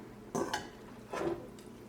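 Chicken pieces drop into a large bowl in two soft, dull knocks with a faint clink of the dish, quiet and close, with nothing else around them.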